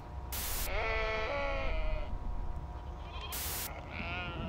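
Sheep bleat several times in a video game, a wavering cry near the start and another later, over a background of low rumble and bright bursts of noise.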